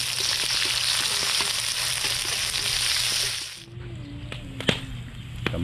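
Garlic and onion frying in a pan at an outdoor catch-and-cook meal, a loud dense hiss of oil dominating before dropping away to quieter sizzling with a few sharp clacks of stirring.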